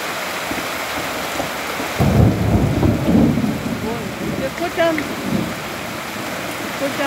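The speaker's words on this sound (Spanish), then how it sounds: "Escuchan los truenos." Steady rain at a ranch with a deep rumble of thunder rolling in after a couple of seconds; faint voices murmur underneath.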